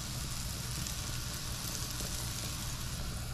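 Floured trout fillets fry skin side down in a hot pan, giving a steady, even sizzle close by with no talking.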